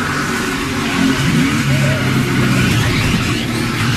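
Onboard a NASCAR Cup Series race car at Daytona International Speedway, driven wide open through the middle of a corner: a loud, steady engine roar fills the sound, with faint voices underneath.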